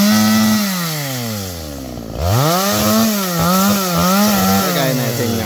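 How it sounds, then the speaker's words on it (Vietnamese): A chainsaw saws into an old tree, its loud engine winding down in pitch, briefly bogging low, then revving back up and surging up and down as the blade bites the wood. "Rồi chú mình chuẩn bị cưa cái cây tiếp theo nha."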